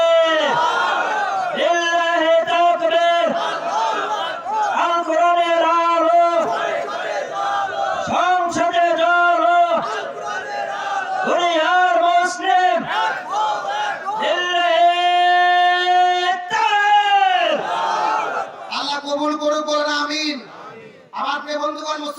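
A large crowd at a religious gathering roars the takbir in unison, loud rhythmic chanted phrases repeating again and again with brief gaps, the voices swelling together near the end.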